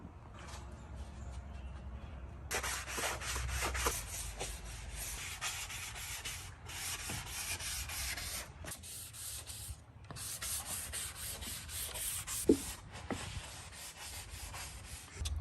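Light hand sanding of a wooden deck with sandpaper during restoration: a steady, continuous scratchy rubbing that runs close and fairly loud for most of the stretch, with a few short breaks and a sharp knock near the end.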